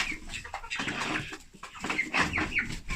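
Hens cluck in an evening coop among a small backyard flock, one with a tiny comb and some of mixed breed, giving a steady stream of soft, close, overlapping clucks and murmurs with occasional sharper calls.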